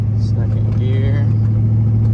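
Diesel truck engine pulling under turbo boost in second gear, a deep steady rumble heard from inside the cab, loud and constant, with someone talking over it and a faint rattle.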